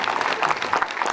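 An audience at a presentation in the Les Menuires ski resort claps in a brief, dense burst of many hands, steady and fairly close throughout.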